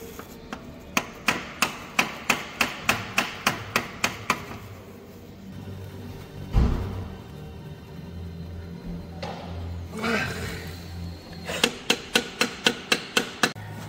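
Repeated sharp metallic hammer strikes on a stuck oil filter of a BMW E36 328i, in a steady rhythm, pausing midway for scraping and clanking, then resuming with another quick run of blows.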